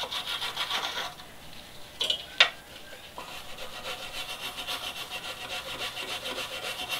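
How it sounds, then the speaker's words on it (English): Threads on a steel brake line nut on a Toyota Yaris being cleaned up by hand, giving a steady rhythmic scraping rasp with a brief break and a few sharp clinks midway, close and fairly quiet with no talking. "Kind of clean up threads on the nut here."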